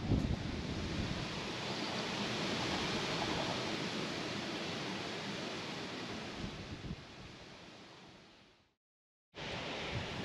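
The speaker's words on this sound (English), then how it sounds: "Ah, this wind." Strong wind blows steadily across an open yard of bur oak trees in spring, a loud broadband rush with gusty swells that cuts out briefly near the end before resuming.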